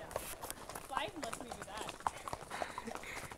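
Hooves of a ridden horse clip-clop at an easy walking pace, soft and fairly distant, while people talk over them.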